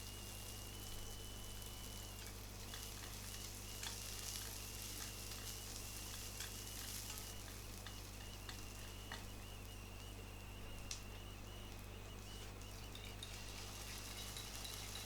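Diced onion sautés with ginger, garlic and green chillies for chicken Manchurian, producing a faint, even sizzle that runs unbroken and fairly distant, with a few soft ticks of stirring.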